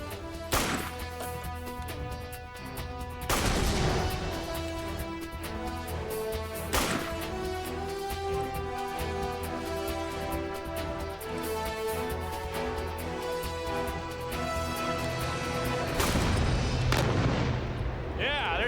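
An M1 Garand rifle fired at a shooting station, with several loud, sharp reports spaced seconds apart over a steady background of music and other noise.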